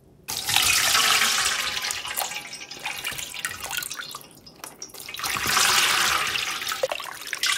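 Kimchi broth made without glutinous rice paste pours through a strainer basket in a home kitchen, a loud, close, rushing splash that eases and then swells again.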